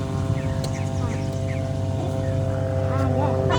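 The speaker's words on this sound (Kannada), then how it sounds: "ಹೆಲಿಕಾಪ್ಟರ್" A helicopter flying overhead at Lalbagh on a Sunday walk, heard as a steady droning rotor and engine hum underneath people talking nearby.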